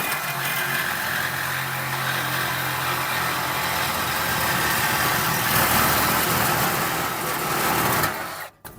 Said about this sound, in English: Now we're just going to use the new Sawzall and cut the muffler off,